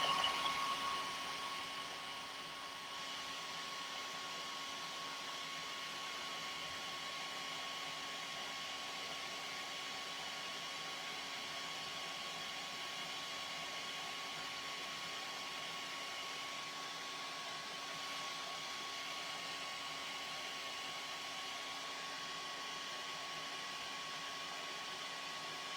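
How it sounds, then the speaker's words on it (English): A hair dryer blows onto a painted rock with a steady, close whooshing hum and a faint whine, constant for a long stretch after a louder start. "I'm going to take mine over and I'm going to zap it with the hairdryer"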